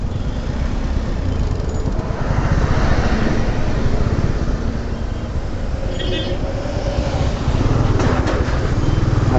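Dense road traffic including travel buses and omnibuses, a steady loud rumble of engines with passing vehicles and occasional horn-like tones throughout.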